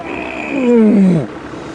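A wild lion roars on safari, close to a vehicle. One deep, loud roar swells and then falls away into a low grunting tail, heard alone in open air.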